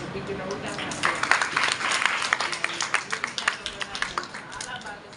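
A big round of applause from an audience: dense clapping swells loud, then thins into separate claps near the end, with voices murmuring underneath.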